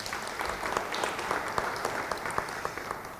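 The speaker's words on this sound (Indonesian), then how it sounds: "Beri tepuk tangan bagi dia" A church congregation claps together during an online Bible study service, a steady round of applause heard at a moderate distance, soft and even, with no voices over it.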